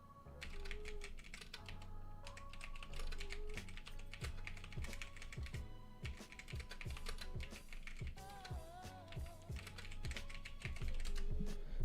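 Fast typing on a computer keyboard, a dense run of close, crisp key clicks with uneven bursts and short pauses, steady for about twelve seconds with no talking.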